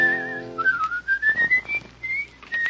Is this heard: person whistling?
yes